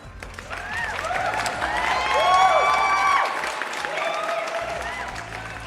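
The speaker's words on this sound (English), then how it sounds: "let's give him a much needed round of applause." A crowd applauds in a steady round of clapping with some cheering, swelling in the middle and easing off, while a voice sings or calls over the top.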